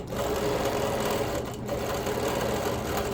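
A sewing machine quilts a stabilized quilt with green thread, running as a steady, loud, continuous mechanical whir with fast needle chatter throughout.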